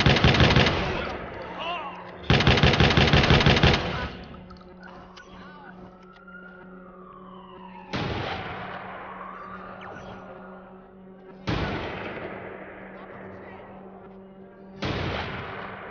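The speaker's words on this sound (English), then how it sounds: "Oh, he's shooting them through the garage." Gunfire in the Watch Dogs 2 video game, loud rapid automatic bursts at the start, then single sharp shots spaced several seconds apart, with a low steady hum and a faint rising whine between them.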